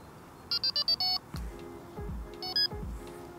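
An alarm control panel gives a quick run of five short electronic beeps as it recognises a paired detector, followed by soft clicks and handling knocks and a couple more beeps, all close and fairly quiet.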